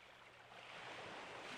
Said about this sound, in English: The only sound you hear is the crashing of the waves.